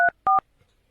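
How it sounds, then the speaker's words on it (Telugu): A telephone keypad being dialed gives two sharp DTMF tones, short and evenly loud, separated by a brief gap, with a faint low rumble afterward. "వాడికి ఫోన్ చేస్తా ఇప్పుడు"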